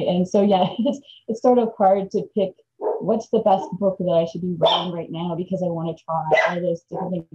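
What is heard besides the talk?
dog barking in the background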